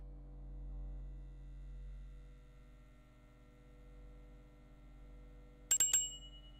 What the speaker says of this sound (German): das könnte die Waschmaschine gewesen sein